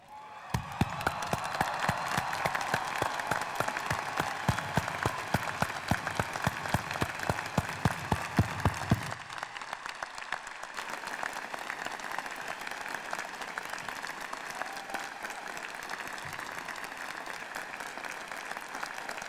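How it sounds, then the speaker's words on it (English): Audience at a 1996 University of Washington graduation ceremony applauding the graduating class: dense, sustained clapping with scattered sharp claps for about nine seconds, then thinning into a softer, steadier patter of applause for the rest. "It is appropriate, therefore, that we all stand up, everyone including the graduates, and applaud the class of"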